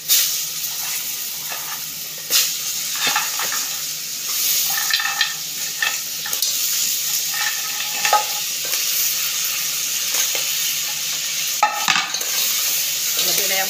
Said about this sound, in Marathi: या मसाल्यामध्ये चांगलं परतून घ्यायचं।